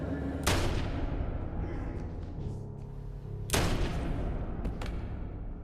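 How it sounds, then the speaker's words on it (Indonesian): Gunshots in a tense film thriller scene, with two sharp loud cracks about three seconds apart standing out over a dense, rumbling soundtrack. "Tiba-tiba Julia yang pura-pura mati menembak Weber hingga tewas."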